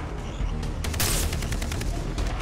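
Far Cry 3 video game gunfire during a sniper encounter, a burst of sharp cracks and booms that are loud and close, ending in a quick rattling volley.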